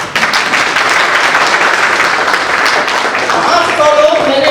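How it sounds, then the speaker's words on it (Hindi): An audience bursts into sustained applause, dense and loud, with a voice speaking over the clapping throughout. "ताली नहीं बजाओगे यार?"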